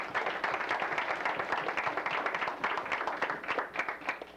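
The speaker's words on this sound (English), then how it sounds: "I think we just owe them a round of applause at this time" Audience at a veterans' naval ship essay awards ceremony giving a round of applause: a steady, fairly distant wash of many hands clapping throughout, without voices.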